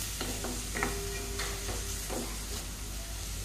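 Onion and carom seeds fry in oil in a pan for chole, giving a steady soft sizzle with a few clinks and scrapes of stirring over it.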